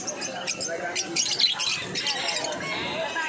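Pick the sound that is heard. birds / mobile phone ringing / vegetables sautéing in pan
birds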